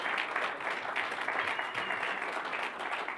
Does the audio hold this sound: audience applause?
yes